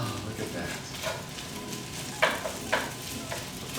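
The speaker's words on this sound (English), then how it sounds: "Break all those eggs up." Eggs stirred and broken up in a hot frying pan alongside fried rice give a steady soft sizzle, with a couple of sharp utensil scrapes against the pan near the end.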